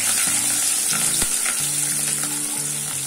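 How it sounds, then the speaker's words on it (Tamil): Crushed garlic and curry leaves fry in oil in a pan for Bombay chutney, making a loud, dense, unbroken sizzle right up close with a single sharp knock partway through and no voices. "கொஞ்சம் பூண்டு தவக்கட்டும்"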